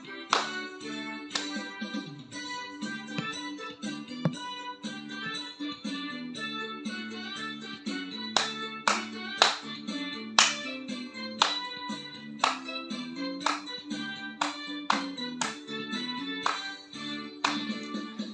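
Children at a Sunday school class clap along to a song, sharp rhythmic claps joining in partway through over a melodic musical backing, fairly close and steady.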